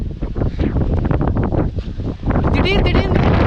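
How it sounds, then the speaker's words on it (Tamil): Strong stormy wind blasts across a mountain path, roaring and buffeting the microphone in loud, uneven gusts that surge again toward the end, with a voice speaking underneath. "கீழேருந்து மொத்த காற்றும் நம்மளை கீழே தள்ளுற அளவுக்கு புயல் மாதிரி காற்றடிச்சிட்டு இருக்குது."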